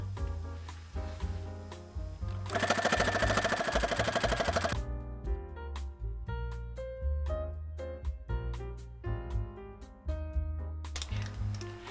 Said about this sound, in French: je vais mettre une petite dentelle. Et je vais aller la coudre à la machine.